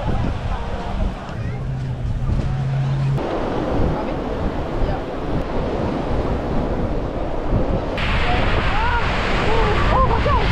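Strong wind roars across the microphone by the sea, with surf washing continuously underneath and a person talking over it.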